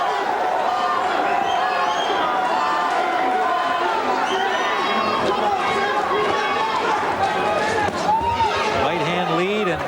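A boxing crowd roars and cheers steadily for number-one-ranked Buddy McGirt during his fight against José Bermúdez, a dense, continuous arena din with commentators' voices running over it.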